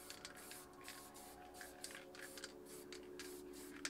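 A Kobra HP spray paint can spraying in short repeated hissing bursts, close and fairly quiet, with no talk.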